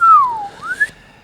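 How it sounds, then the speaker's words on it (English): A single person whistles a short tune phrase, a clear close melody that dips and then rises, alone without talk. "We're whistling tunes on the way back"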